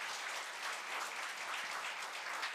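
Thankful audience applause at a Korea University graduate school of labor year-end evening, a soft, steady patter of many hands clapping in a hall, fairly faint and without talk.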